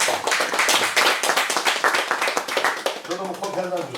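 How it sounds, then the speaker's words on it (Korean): An audience at a church gathering claps to welcome a pastor to the stage, a dense burst of applause that thins out toward the end as background chatter continues. "우리 마한필 목사님 나오실 때 박수로 환영하겠습니다."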